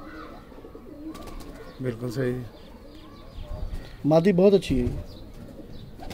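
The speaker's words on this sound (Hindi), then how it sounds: "दोनों सियालकोटी कबूतर हैं" Sialkoti pigeons give throaty coos in two clear bursts, nearby, while someone talks over and between the calls.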